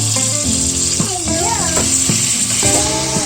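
Potatoes and finely chopped tomatoes sizzle steadily in a hot pan, a broad frying hiss that continues under a voice speaking the whole time.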